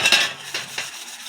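A gas stove crusted with grime is scrubbed in a few short, dry rasping strokes. They sound close and fairly quiet, with no talking.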